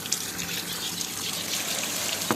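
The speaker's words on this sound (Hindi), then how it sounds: "गोभी और आलू जो है ना मैंने धो लिए अच्छे तरीके से" Tap water runs steadily while cauliflower and potatoes are washed, a continuous close gushing and splashing with no voices.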